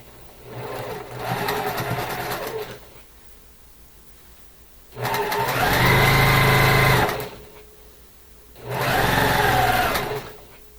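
A sewing machine stitches a sashing strip onto a spring quilt block in three steady, close runs. Each run lasts a couple of seconds, with quiet pauses between them.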